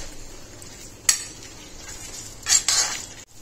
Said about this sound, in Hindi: करीबन 2 से 3 मिनट हम मसाले को और भून लेंगे धीमी आंच पे